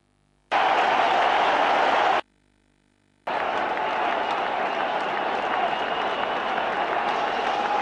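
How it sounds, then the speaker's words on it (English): A cricket stadium crowd in Kolkata roars and applauds after Flintoff's run out in the 2002 India vs England ODI, loud bursts of cheering broken by a brief quiet gap, then a sustained wash of crowd noise. "And the crowd ecstatic."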